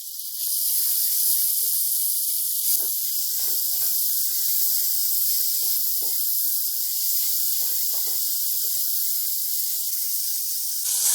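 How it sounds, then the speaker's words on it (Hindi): Chopped tomatoes hiss and sizzle steadily in a hot pan while frying for tawa chicken, a constant bright crackle with scattered small pops and spits, close and loud. "अब टमाटर सॉफ्ट होने तक हम भून लेंगे।"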